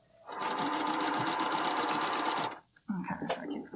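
Sewing machine running steadily on bralette fabric, a loud continuous whir for about two seconds that stops abruptly, followed by handling clicks and rustles.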